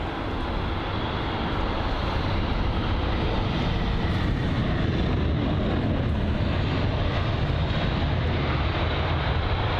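A Brussels Airlines Airbus A320ceo in Star Alliance livery roars at London Heathrow, a steady broadband jet-engine rush that swells slightly and stays loud throughout, with no talk.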